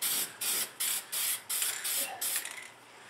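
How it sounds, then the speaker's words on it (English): Seven short, sharp bursts from a spray paint can hiss in a steady rhythm, close and loud, each lasting about a quarter second with brief gaps. "So all I did was go in there with the spray can."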